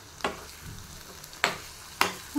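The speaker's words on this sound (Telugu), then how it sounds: "చట్నీని ఇందులో వేసి బాగా మిక్స్ చేసేయాలి" A spoon stirs coconut, mint, tomato and coriander chutney into a sizzling tempering with curry leaves, a low sizzle under three sharp scraping strokes against the pan.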